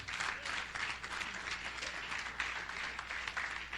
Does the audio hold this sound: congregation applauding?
yes